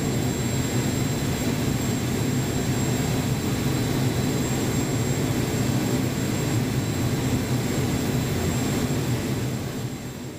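Inside the passenger cabin of a Mi-26 heavy helicopter, the engines and rotor make a loud, unbroken roar with a steady high whine on top, constant throughout and easing only slightly at the end.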